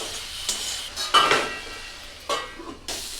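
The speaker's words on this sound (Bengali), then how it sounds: "এখন সুন্দরভাবে ভেজে নিতে হবে" Green chilies frying in a pan with turmeric and salt, heard as a steady low sizzle broken by a few sharp scrapes and knocks of a spatula against the metal.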